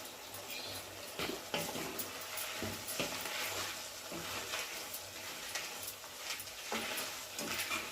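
A pot of ginger chutney with turmeric and rock salt bubbling on the stove, a steady busy simmer with soft crackles and watery bursts throughout, fairly close.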